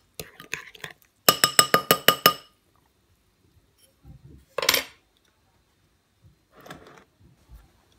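A spoon stirs sugar into batter, producing a quick burst of about a dozen rhythmic metallic clinks against the bowl, followed by a few isolated taps and knocks separated by quiet pauses.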